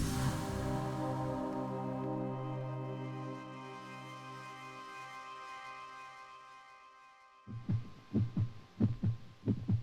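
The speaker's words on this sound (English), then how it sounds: "You are experiencing the heartbeat of a dying man." A heartbeat sound effect meant as a dying man's, heard as steady low throbbing beats that fade out, then return as a few louder, closer thumps near the end.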